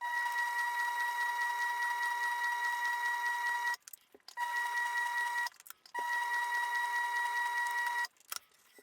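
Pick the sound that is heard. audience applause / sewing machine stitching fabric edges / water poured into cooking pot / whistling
sewing machine stitching fabric edges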